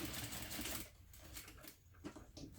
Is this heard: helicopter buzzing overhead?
no